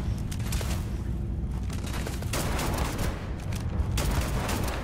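Rapid gunfire in Starfield, a continuous close volley of shots with no talk.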